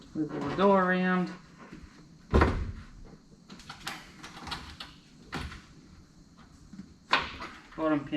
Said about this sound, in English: Wiggle the door around.